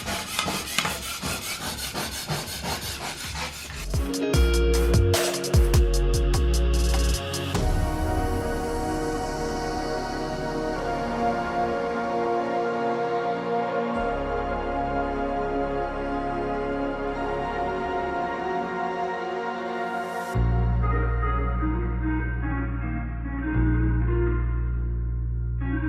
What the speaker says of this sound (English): I'm going to just sand everything and scrape it off.